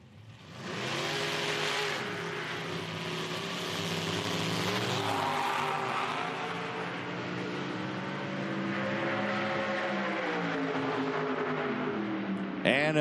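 Drag race cars at an IHRA event in Hebron, Ohio, a Corvette Roadster and a 1994 Oldsmobile Cutlass, roaring and revving loudly for most of the clip while an announcer talks over them.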